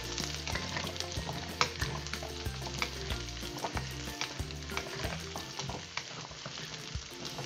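Pumpkin pieces are stir-fried in a pan, a constant crackling sizzle broken by regular scraping and clattering strokes of a spatula against the metal, close and fairly loud with no talking.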